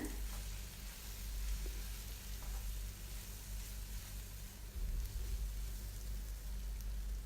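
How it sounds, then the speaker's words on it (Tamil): Masala with turmeric, coriander and chili powder sautéing for prawn curry, a faint continuous rain-like sizzle with a low hum underneath and no voices. "சேர்த்துட்டு ஒரு 2 நிமிஷத்துக்கு இதிலே நல்லா வதக்கிக்கோங்க"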